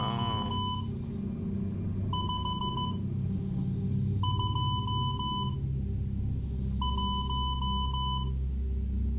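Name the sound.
Morse code beeps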